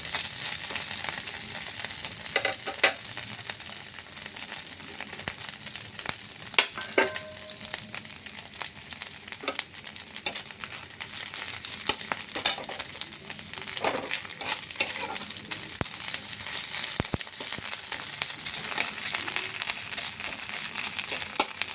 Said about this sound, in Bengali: শুটকি ভাজা হয়ে গেছে